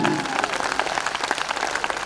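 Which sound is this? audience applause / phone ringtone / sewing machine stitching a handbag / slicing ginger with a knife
audience applause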